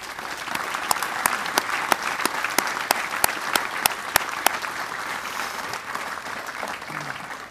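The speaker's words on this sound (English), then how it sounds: "Please give them a round of applause." An audience applauds at a U.S. Army Southern European Task Force change of responsibility ceremony, with steady dense clapping and a few sharp, loud claps standing out, fading slightly toward the end.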